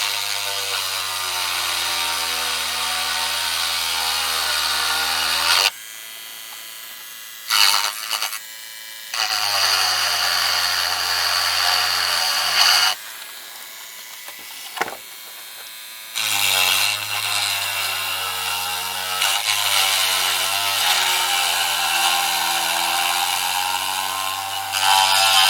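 A rotary power tool grinds parts of a Fine Molds 1:144 scale Millennium Falcon model kit, its steady high whine running in long bursts broken by brief pauses and short stop-start moments.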